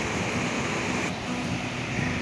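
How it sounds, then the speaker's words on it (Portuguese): Broad, constant roar of river rapids churning below a waterfall at Piraju, São Paulo, a dense rushing wash of water that stays loud and steady with no pauses. "Que corredeira maravilhosa"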